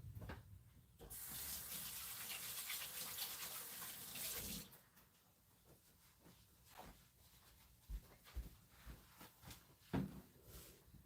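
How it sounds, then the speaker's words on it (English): Tap water runs steadily for about three and a half seconds while hands are washed, then shuts off, leaving soft handling clatter and small knocks close by. "let me go wash my hands so I'm not getting dirt and stuff on his face"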